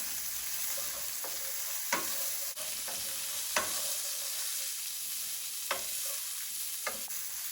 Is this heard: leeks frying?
yes